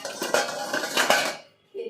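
Metal plates clatter and clink as they are picked up and stacked, a brief bright run of close metallic rattles that drops to silence before another knock.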